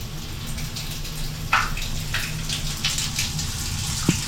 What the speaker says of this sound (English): there's the water coming through